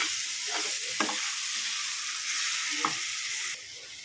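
Spoon stirring boiled egg curry with tender tamarind leaves in a pan, a few scraping stirs and soft clacks over a low steady sizzle, close and fairly quiet, no voices.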